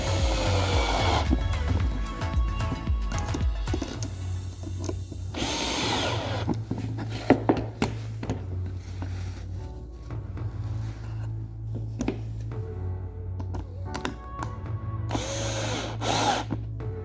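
A power drill drives screws into scrap wood in several bursts of high-pitched whine, close and loud, separated by short pauses with clicks and handling noise.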